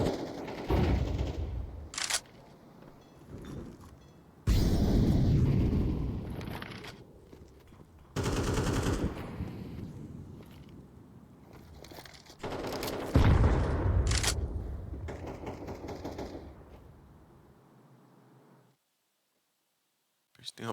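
Counter-Strike 2 gunfire during a professional match on the Overpass map, with repeated loud bursts of rifle fire and clattering shots in several clusters, separated by quieter gaps and fading out near the end.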